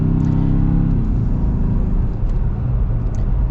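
A 2025 Ford Bronco base model with a 4-cylinder engine drives on 37-inch tires, giving a steady, loud low rumble and engine drone that shifts slightly in pitch early on and then holds even.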